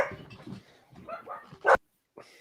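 Dogs indoors give a few soft yips and whimpers, then one sharp, loud bark close by, followed by a brief pause and a faint trailing sound.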